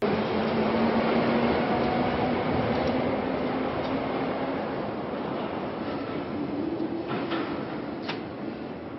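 A London subway train rumbles in a steady, dense roar inside the underground in a Scream 6 trailer scene, with a few faint clanks and squeals near the end.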